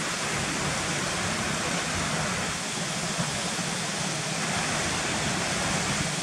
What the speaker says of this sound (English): let's go past these big drop waterfalls just here, look